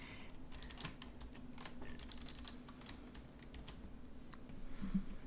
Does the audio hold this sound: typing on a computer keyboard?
yes